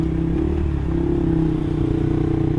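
A Suzuki GSX R150 motorcycle fitted with an R9 Mugello racing exhaust idles close by, a loud, steady, throbbing low burble that holds even throughout.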